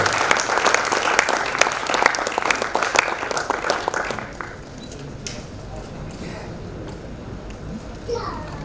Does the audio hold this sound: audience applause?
yes